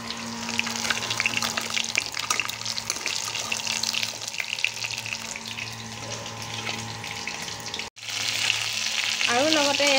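A crab frying in hot oil in a pan, a steady crackling sizzle that carries on, briefly cut off once near the end and then resumes, with a faint clatter of utensils.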